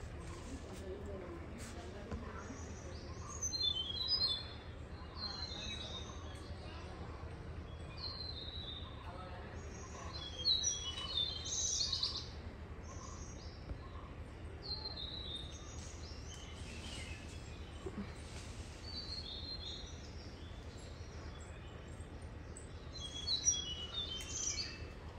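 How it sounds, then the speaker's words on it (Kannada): Birds chirp and call in the morning at a nature resort near private waterfalls, with bright short tweets scattered over a steady low background rumble and occasional voices. "ಬೆಳಗ್ಗೆ ಎದ್ದಿದ ತಕ್ಷಣ ಆ ಪಕ್ಷಿ ಸೌಂಡು ಎಲ್ಲ ತುಂಬಾ ಎಂಜಾಯ್ ಮಾಡಿದ್ವಿ"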